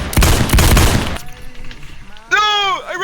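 Rapid bursts of video game gunfire crack out loud in the first second, followed by quieter game sounds and a short tonal effect near the end, with voices talking over the action.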